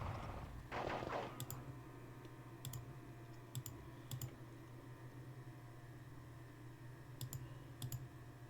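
Scattered gunfire sounds from the WDS Gettysburg strategy game, a burst near the start and then sharp isolated shots spaced every second or two over a steady low hum, with no talking.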